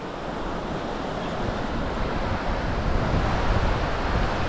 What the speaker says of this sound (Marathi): पाण्याचा प्रेशर बघा इकडे तुम्ही